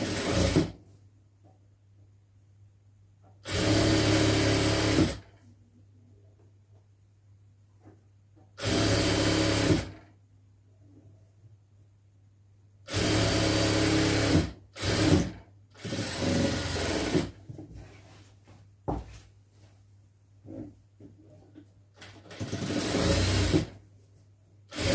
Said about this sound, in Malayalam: അരികുവശം ഒരു സ്റ്റിച്ചും കൂടി ഇട്ട് കൊടുക്കാം.